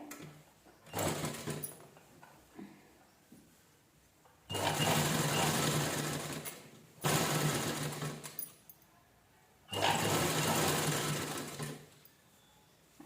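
Domestic sewing machine stitching the neckline of an unlined blouse with canvas interfacing, three loud close bursts of rapid whirring stitching separated by short quiet pauses.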